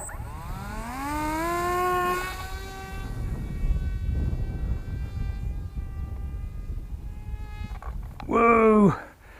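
RC F16 model jet flying at three-quarter throttle in windy conditions, a rising, whining tonal buzz that holds steady, drifts, then swells sharply near the end as it passes close.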